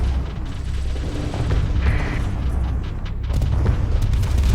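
Spaceship weapons fire in the Starsector space combat game with the Nexerelin mod, a continuous barrage of booming shots and dense gunfire-like bursts layered over a steady low rumble, loud and sustained throughout.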